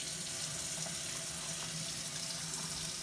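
Steady rush of water pouring from a tap, continuous and close, filling a bath with no pauses.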